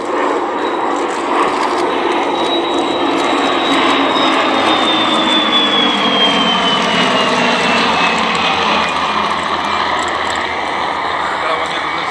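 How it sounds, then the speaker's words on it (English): A Bristol Blenheim flies in formation with two Spitfires at an air show at Duxford, a loud sustained roar of piston engines passing overhead with a gliding whine, alone without talk. "the Blenheim is now back in flight. In from the left, it runs with the two Spitfires."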